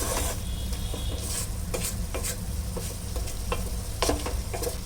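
Vegetables for pulao sizzle and fry in a pan, a constant crackling hiss with occasional sharp stirring scrapes and clinks of a utensil, close up and alone.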